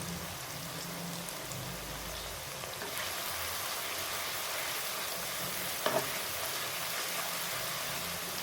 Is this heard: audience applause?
no